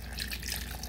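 Beef broth being poured into a pan of meatballs, a brief soft liquid trickle and splash, faint and close with no voices.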